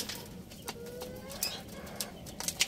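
Soft racing pigeon coos and short bird calls, close and fairly quiet, with a few brief clicks and rustles; no talking.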